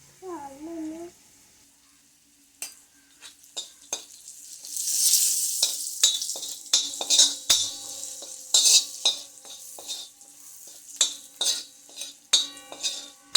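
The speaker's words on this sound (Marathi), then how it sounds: "हळद आणि मसाला व्यवस्थित परतून घ्यायचा तेलावरती" Turmeric and homemade masala sauté in oil in a pan, sizzling close by as a spoon stirs and scrapes in repeated clinks and scrapes, with a brief voice at the start.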